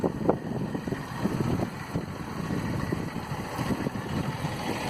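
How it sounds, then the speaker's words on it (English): Wind gusts steadily across a microphone on the seafront walkway at Bandstand, Mumbai, a continuous buffeting rumble with no voices. "It's very windy and breezy today"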